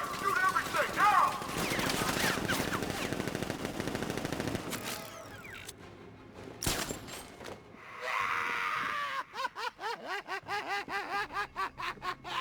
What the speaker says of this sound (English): Open fire! Shoot everything!